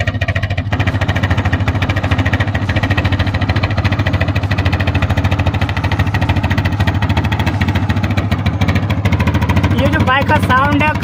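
A TVS Apache RTR motorcycle engine with a balloon stretched over the silencer runs steadily close by, a dense low rumble that never lets up, with voices faintly over it.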